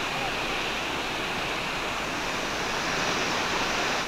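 Rushing floodwater pours through a rain-fed drain in Fatehpur during heavy flow, a loud, steady roar of churning water that fills the whole stretch without pause.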